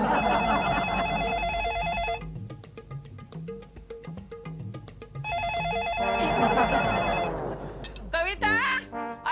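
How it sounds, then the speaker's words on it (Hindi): A telephone rings in repeated electronic bursts, interrupted by a stretch of plucky background music and a brief shout at the end. "अरे फोन की घंटी पर से सुनाई नहीं देता?"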